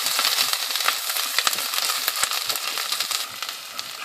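Loud, close sizzling and crackling of ginger garlic paste frying in hot oil, steady throughout with occasional sharper pops.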